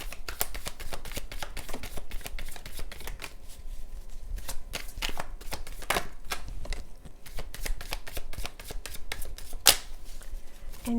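Cards riffle and shuffle in repeated bursts with crisp, papery snaps, close and fairly steady throughout, with no talking.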